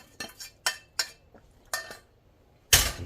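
Sour cream being stirred into cornbread batter in a bowl: a utensil knocks and clinks against the dish in a few separate strokes, close and fairly loud, finishing with a sharper, louder scrape.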